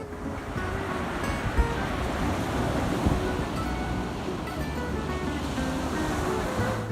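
Steady, broadband roar of ocean surf washing in continuously, loud and close with a wind-blown rush and no voices.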